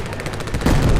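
An anti-tank gun fires in a WWII video game: a loud, close burst of rapid gunfire reports that swells into a heavier booming blast toward the end, with no talk.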